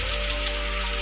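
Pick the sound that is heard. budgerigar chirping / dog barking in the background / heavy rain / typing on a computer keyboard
heavy rain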